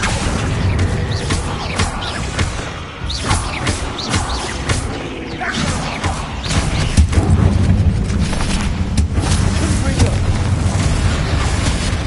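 Bombarda spell explosions in Hogwarts Legacy, heavy booming blasts and crashing debris rolling through a tomb, loud and dense, mixed with talking voices.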